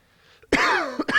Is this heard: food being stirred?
no